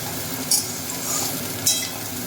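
Soybean chunks frying in a pan, a steady low sizzle with two brief bright scrapes of a utensil stirring them partway through, close and alone with no talk.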